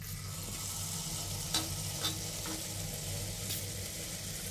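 Poa pitha rice cakes fry in hot oil with a soft, steady sizzle, broken by a couple of brief clinks from a bowl or utensil, quiet and close with no speech.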